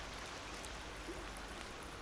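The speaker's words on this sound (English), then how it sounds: "I hear the water." Flowing water in The Forest video game: a steady, soft rushing wash that runs unbroken and fairly faint throughout, with no voices over it.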